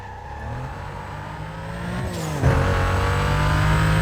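A Porsche Cayman S engine in Need for Speed Most Wanted, a steady game-car drone that rises in pitch and swells louder near the middle as it revs harder, with a tire squeal in the mix.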